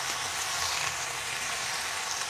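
Fresh pumpkin greens, cooked with eggplant and jackfruit seeds, fry and are slowly stirred in a pan, giving off a steady, close, even sizzle with no talking.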